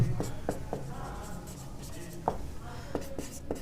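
Pen writing out a geometry problem about a right triangle on paper: close, light scratchy strokes and taps in an uneven rhythm, steady and quiet throughout, with no speech over them.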